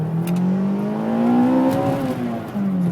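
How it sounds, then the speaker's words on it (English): A warmed-up Toyota Corolla T Sport hatchback with the VVTL-i engine revs hard, its steady engine note climbing in pitch then easing off, loud and close with no talking. "I'll rev it quite hard"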